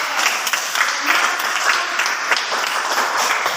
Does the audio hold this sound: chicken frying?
no